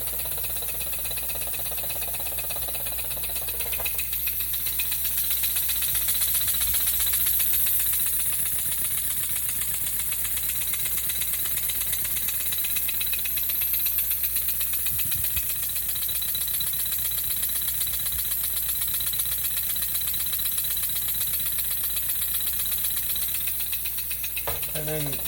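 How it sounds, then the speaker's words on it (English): A small model engine kit runs steadily nearby with a continuous fine rattle and whir, holding a fairly even speed set by its little throttle, with faint talk over it. "just turn the valve on a little bit, and there you have it. And then you can control the speed of the engine by the little throttle right there"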